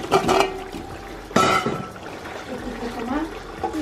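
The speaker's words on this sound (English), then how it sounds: "We drained the potatoes and we're going to dump them in here." Drained potatoes tumble into a biryani pot in two brief thuds and splashes, a short sharp one at the start and a louder clatter midway, with kitchen noise and talk around them.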